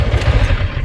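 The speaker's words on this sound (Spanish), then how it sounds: "suena la moto. Tiene un sonido muy bonito" A CFMOTO 650 MT motorcycle engine runs nearby with a loud, throbbing low pulse and a rough clattering texture over a brief stretch.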